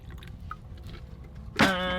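Water poured from a container into a stew pot with onion and thyme at a winter campsite with a woodstove, a sudden gurgling pour arriving near the end after quiet background sounds.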